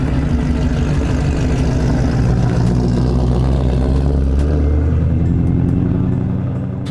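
A Ford car pulled out at a performance shop runs loudly and close, its engine giving a continuous low rumble that stays steady and then eases slightly near the end.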